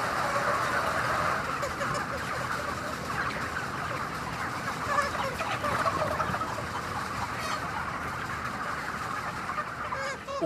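Chickens clucking and murmuring en masse inside a large poultry hall holding tens of thousands of birds, a constant dense chorus with scattered sharper calls, moderately loud and steady.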